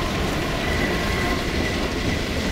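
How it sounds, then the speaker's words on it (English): A train runs on rails in Half-Life 2, a loud, steady rumble and rattle of wheels with a faint metallic squeal riding over it, close by, with no voices. "Hey, it's the train!"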